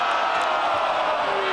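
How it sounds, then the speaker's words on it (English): A stadium crowd at a NOLA versus Toronto rugby match reacts to a poor kick with a steady, dense wash of murmuring and jeering that holds at an even level for a second and a half. "The crowd is not happy about that."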